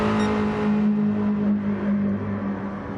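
A BMW race car engine in a road race, a loud, steady, close droning note that holds and eases slightly without any voices.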